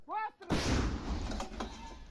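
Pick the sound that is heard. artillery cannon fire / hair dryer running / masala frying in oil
artillery cannon fire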